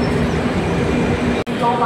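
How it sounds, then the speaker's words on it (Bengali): A Howrah–Mumbai express train rolls through Raigarh station with a loud, steady rumble of wheels and carriages, broken by one brief dropout before the noise resumes. "রায়গড় স্টেশন ক্রস করে ট্রেন চলেছে তার পরবর্তী স্টেশনের দিকে।"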